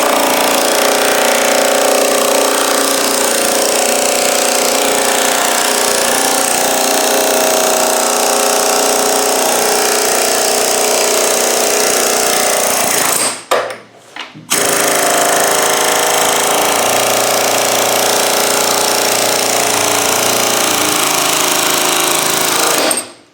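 An air chisel hammers hard and continuously at the steel door skin of a Land Rover Defender. The loud, close rattle stops for about a second near the middle, then resumes. No one speaks.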